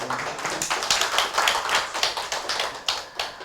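Audience applause at a Gwangju urban regeneration forum and agreement signing ceremony in Korea, a steady dense patter of many hands clapping at moderate volume without talk.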